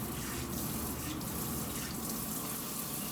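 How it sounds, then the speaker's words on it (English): Water runs in a steady stream from a tap or container, poured onto potting soil for growing greens indoors, a continuous close splashing rush with no talk. "put a little water in,"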